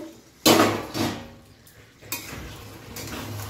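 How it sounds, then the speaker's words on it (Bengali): A metal lid is lifted off a cooking pot of simmering jackfruit and prawn curry, giving a sharp clank followed by a smaller rattle, then a second clatter a moment later, close by and without talk. "তো এবার আমি খুলে দেখে নেব কতটা কি সিদ্ধ হয়েছে।"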